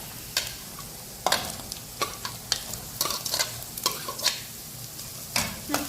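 Onions and shallots fry in a hot pan for chicken liver masala while being stirred vigorously, a low sizzle punctuated by repeated loud scraping strokes and clanks of the spoon, close with no talk.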